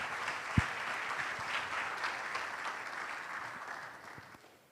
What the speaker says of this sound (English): let's give a round of applause to Samson